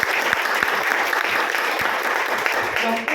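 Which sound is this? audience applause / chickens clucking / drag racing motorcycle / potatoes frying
audience applause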